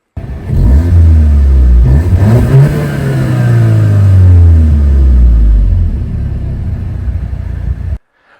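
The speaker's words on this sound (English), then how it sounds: "Here's a quick audio clip with the downpipe installed on the stock exhaust." Loud car exhaust with an APR Stage 2 tune and downpipe on the stock exhaust, revving up from idle into a deep rising drone, holding, then easing off before cutting to silence.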